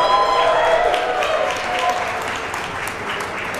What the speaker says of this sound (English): how about one final round of applause for the Crooks crew who join us here from Chicago